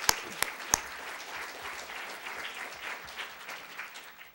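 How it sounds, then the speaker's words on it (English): Applause from a university public forum audience on campus, a steady wash of many hands clapping, fairly distant and moderately loud, with a few sharper claps at the start. "So we better give you a round of applause."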